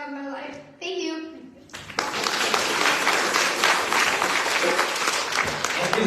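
Audience applause at a birthday celebration, rising suddenly after brief voices and settling into a full, steady crowd clapping that carries to the end.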